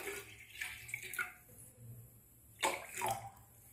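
Water from a small bowl, the same one used to measure semolina, is poured into a pan for making Rajasthani upma, giving two short splashing bursts of pouring close by, with no talking.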